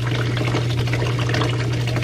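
A 6-inch water siphon drains steadily with a loud, continuous gushing, rushing flow and a low steady hum under it, sounding close and unbroken throughout.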